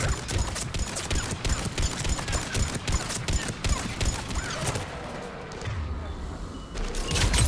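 Incendiary ammo gunfire in Mass Effect 3, sustained rapid shooting in dense, loud bursts through most of the stretch before it thins into rumbling combat noise.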